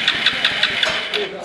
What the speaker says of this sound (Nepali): फाइनली बाइक स्टार्ट भएको छ